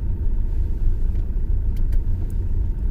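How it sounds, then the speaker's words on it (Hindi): A Maruti S-Cross driving slowly through a residential colony at night, a steady low engine and road rumble from inside the cabin with a few faint clicks. "मैं कॉलोनी में अपनी कार को ड्राइव करवा रहा हूँ"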